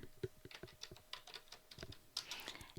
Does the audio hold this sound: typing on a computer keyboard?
yes